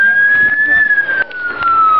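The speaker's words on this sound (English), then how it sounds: "watch what happens when she hears a police siren" Police siren wailing loudly in a steady, slowly sweeping tone, close and continuous, with faint background noise beneath it.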